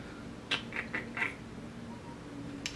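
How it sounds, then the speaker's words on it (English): A house cat calls at a door with a few short, fairly quiet meows spaced over a couple of seconds, with a soft room hum behind them and no talking. "So my cat is still calling at the door."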